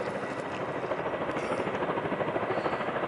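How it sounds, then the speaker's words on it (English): A helicopter circles overhead above hills near Ifonche, Tenerife, on a hot August day, giving a steady, fairly loud rotor drone with a faint rhythmic blade pulse and no talking. "the helicopter's still up there"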